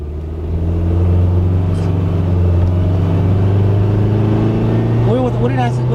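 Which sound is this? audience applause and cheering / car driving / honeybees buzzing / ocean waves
car driving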